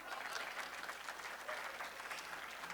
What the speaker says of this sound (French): ça méritait des applaudissements